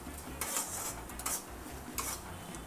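A utensil scrapes and clinks against a pan while spices for a pea curry are stirred, giving faint, irregular metallic strokes over a low background hum.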